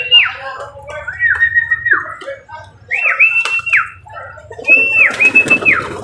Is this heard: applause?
no